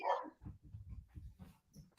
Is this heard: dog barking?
yes